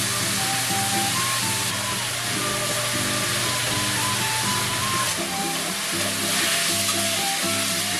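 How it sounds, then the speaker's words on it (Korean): Seasoned pork stir-fries in a pan while the liquid cooks away, a steady close sizzle and bubbling hiss with occasional stirring, heard alone. "그럼 그때부터 섞으면서 국물이 없어질 때까지 볶습니다."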